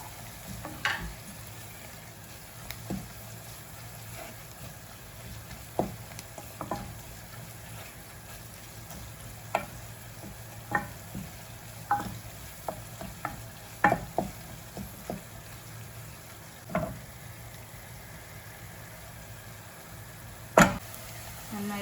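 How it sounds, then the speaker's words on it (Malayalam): Ginger, garlic and green chilli sautéing with softened onions in a pan for a Kerala-style beef curry: a steady low sizzle with scattered sharp scrapes and stirring knocks of a spoon, close and moderately loud, with no talking. "ഇനി നമുക്ക് അരിഞ്ഞ് വെച്ചിരിക്കുന്ന ഇഞ്ചി, വെളുത്തുള്ളി, പച്ചമുളക്"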